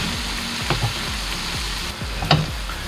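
Vegetables sizzle and fry steadily in a pan, with a few soft scraping stirs and utensil taps over the constant crackle.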